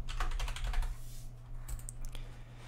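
Computer keyboard typing a folder name for a Minecraft server: quick runs of close key clacks, then a pause and a few separate sharper taps over a low steady hum, no speech.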